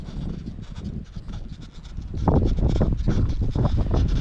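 Gusty wind buffets the microphone at a model jet airfield, building into a louder, steady roar in the second half with rough low-frequency rumble and rustling.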